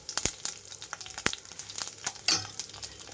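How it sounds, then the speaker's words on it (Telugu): Tempering seeds, dried red chillies and curry leaves frying in hot oil for a garlic rasam, a steady close crackling sizzle dotted with sharp pops and spatters throughout. "తాలింపు గింజలు అలాగే ఎండుమిరపకాయలు వేసి వేయించుకుంటున్నాను."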